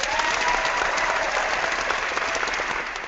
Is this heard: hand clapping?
yes